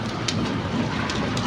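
Hail falls in a storm as a steady, dense rattle and patter of ice pellets, close and continuous, with a few brighter hits standing out.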